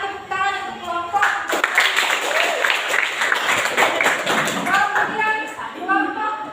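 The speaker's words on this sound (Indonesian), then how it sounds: "silakan tepuk tangan untuk kelompok" Students in a classroom break into clapping for a group, a burst of applause lasting several seconds between stretches of a teacher's speech.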